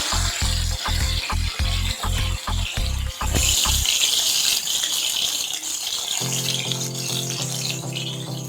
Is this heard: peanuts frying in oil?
yes